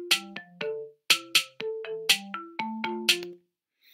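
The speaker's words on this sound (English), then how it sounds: "In fact, I quite like the marimba sound." Simple marimba melody built in Chrome Song Maker, a dozen or so bright, woody mallet notes with short decays in a bouncy, spaced-out rhythm, clear and alone.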